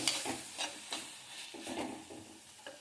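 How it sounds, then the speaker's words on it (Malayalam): Three tomatoes being sautéed in a pan for a tomato curry, with a soft sizzle under repeated stirring strokes of a spoon, close and moderately quiet. "മൂന്ന് തക്കാളിയാണ് കേട്ടോ അങ്ങനെ എടുത്തത് നന്നായിട്ട് വഴറ്റുക"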